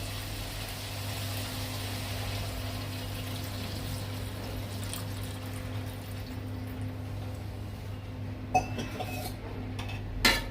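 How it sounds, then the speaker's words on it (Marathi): Chilli potato spice mixture being stirred in a pan, with steady scraping and soft clinks of a utensil against the metal over a low background hum, and a couple of sharper clanks near the end. "ते सर्व एकदम व्यवस्थित मिश्रण करून घ्यायचं"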